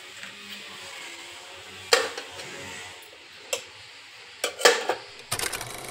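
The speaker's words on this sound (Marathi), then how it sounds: "आणि आता ह्या वाट्या मी या कुकरमध्ये ठेवणार." Metal bowls are set into a pressure cooker, giving a few sharp clinks and knocks spaced over several seconds, ending with a quick cluster of rattling contacts against a quiet background.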